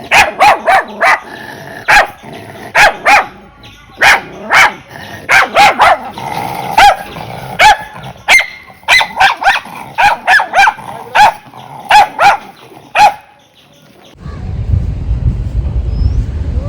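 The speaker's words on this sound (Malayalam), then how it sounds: "കുറേ ഇതേപോലുള്ള അലവലാതി പട്ടികളുണ്ട്. എന്ത് കൊരയെന്നറിയാവേ" Several dogs at homes along a delivery route bark loudly and close by in repeated rapid bursts with some growling, then fall quiet as a low rumbling noise takes over.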